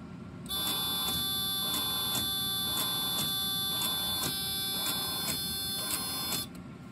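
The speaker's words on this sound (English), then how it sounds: "the buzzer activated because that's an exception event that doesn't just get logged" A Radionics 6500 alarm receiver's harsh electronic buzzer sounds continuously for about six seconds, pulsing slightly, loud and close, then cuts off abruptly.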